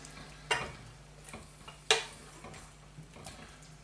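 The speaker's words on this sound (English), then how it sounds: "One last little stir, get it all nice and covered" A spoon stirs squirrel in a creamy mustard sauce in a pan. Two sharper clinks or scrapes stand out over a quiet background.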